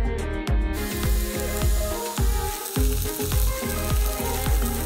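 Oiled aubergine slices sizzle loudly in a grill pan, a steady close frying hiss broken by repeated low thumps and handling knocks, with no talking.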